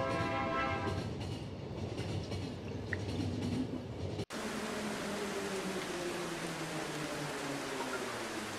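Train rumbling and clattering past in the video game The Final Station, a continuous loud mechanical roar with steady rolling rhythm, briefly cut then resuming with droning tonal hum.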